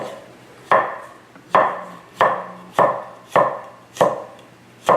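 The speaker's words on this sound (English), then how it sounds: "I'll slice the garlic" A kitchen knife slicing garlic on a board for an elk dish, sounding as seven evenly spaced, crisp knocks that each fade quickly, with no talking over them.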